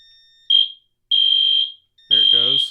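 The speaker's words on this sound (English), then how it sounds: "restarted its horn sequence on code 3." A fire alarm panel horn sequence sounds after a heat detector test: three loud, steady electronic horn blasts with short silent gaps between them, the last one buzzing harshly.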